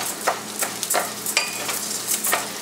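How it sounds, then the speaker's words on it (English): Rice grains being stirred and toasted in a pan for risotto alla Milanese, with a steady background sizzle broken by repeated scraping strokes at a moderate, even pace, close by and with no talking. "Stir from the center to the side."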